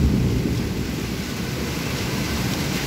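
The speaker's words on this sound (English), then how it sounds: "you can see the lightning and the thundering" Low thunder rumbles steadily through a rainstorm in Dhaka, a dull continuous roar with a slightly louder swell at the start.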